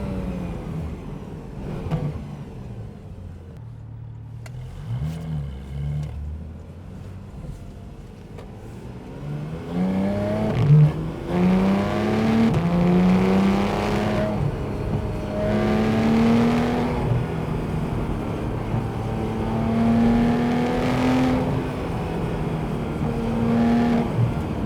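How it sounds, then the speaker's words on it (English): A car engine auto-blipping on downshifts from fourth gear, with sharp rising revs as each gear is dropped, then a sustained, strongly climbing engine note. Heard from inside the car, moderately loud, with no talking. "you get an exquisite sound from the"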